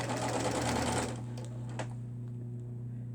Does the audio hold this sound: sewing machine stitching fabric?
yes